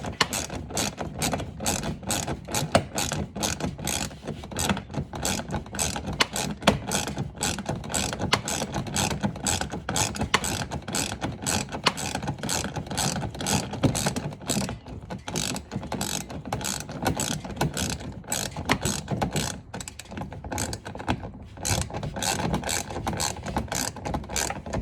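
A ratchet clicks steadily and rapidly without pause while snugging down a bolt on a Dodge Challenger splash guard, the close, continuous pawl chatter running the whole time with no talk.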